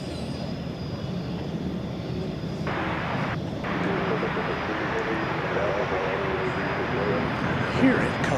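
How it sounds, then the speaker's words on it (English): An American Airlines Airbus A321neo departing a DFW Airport runway, a broad, steady engine roar that holds loud throughout and swells slightly toward the end, with faint voices underneath. "We should have American Flight 577 headed off to Denver, the mile-high city, on an Airbus A321neo."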